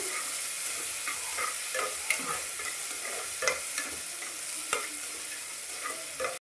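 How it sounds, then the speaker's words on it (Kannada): Garlic, ginger and onion fry in a pan for sambar, giving a constant soft sizzle broken by scattered clicks and scrapes as they are stirred. "ಇದು ಎಲ್ಲ ಚೆನ್ನಾಗಿ ಫ್ರೈ ಆಗಲಿ. ಈರುಳ್ಳಿ ಜೊತೆಗೆ ಚೆನ್ನಾಗಿ ಫ್ರೈ ಮಾಡಬೇಕು."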